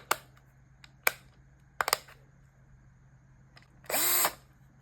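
DeWALT 20V Max cordless driver nearby: a few sharp clicks from trigger and settings handling, then a short, loud whirring run of about half a second that spins up and stops, with no talking.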